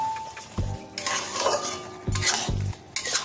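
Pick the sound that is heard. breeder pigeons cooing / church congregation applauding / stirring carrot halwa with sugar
stirring carrot halwa with sugar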